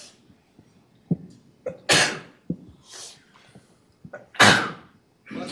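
Two loud sneezes burst out a few seconds apart in a quiet room, separated by small sniffs and breaths.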